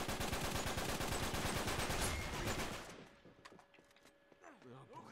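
Rapid bursts of gunfire from an Uncharted 3 match, dense and loud for nearly three seconds before cutting off, leaving quieter scattered game sounds.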